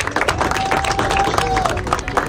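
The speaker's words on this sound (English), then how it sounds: "clap it up for yourself" People at a youth football tournament clap in a loud, irregular burst of applause that carries through the whole stretch, with voices mixed into the crowd noise.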